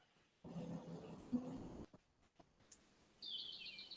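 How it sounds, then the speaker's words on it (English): Birds chirp outdoors, faint and distant, with a few short tweets and calls spread across quiet background noise. "nothing but birds"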